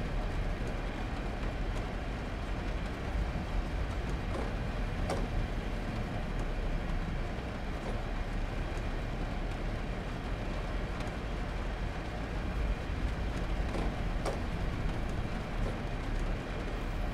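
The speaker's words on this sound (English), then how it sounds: "this Class 60 should not be jolting forwards and backwards like this" A Class 60 diesel locomotive hauls freight tankers on the South Wales Main Line in Train Simulator 2021, giving a low, steady rumble with faint clanks and no talking.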